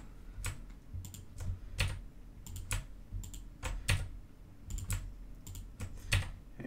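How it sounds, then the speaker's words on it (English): Computer keyboard shortcut keys pressed while working in Blender 3D modeling software, heard as clustered bursts of quick clicky keystrokes with short pauses between groups, close and moderately loud over a low background hum. "Notice that I'm not actually saying what shortcut keys I'm pushing now."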